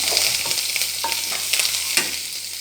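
Small onions sizzle in hot oil in a pan while a spoon stirs them, with steady frying hiss and a few soft scraping knocks, close and alone.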